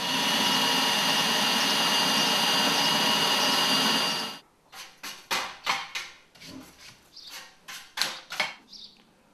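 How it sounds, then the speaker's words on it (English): A power drill bores holes through a car body panel clamped and held with clecos: one long steady whirring drill run of about four seconds, then a quick series of short separate bursts and clicks. "so we can drill all the rest of the holes perfectly accurately"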